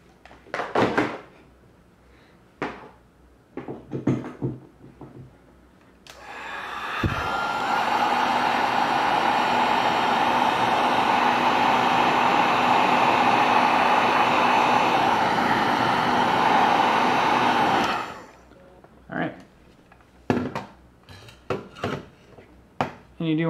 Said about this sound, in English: And then I got my heat gun.